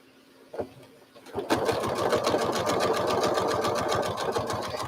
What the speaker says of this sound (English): you just gently sew,